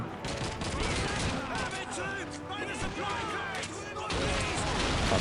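Gunfire in Call of Duty 2 during a night infiltration mission: repeated rifle and machine-gun bursts with distant artillery-like booms, layered under someone talking and other voices amid the battle noise.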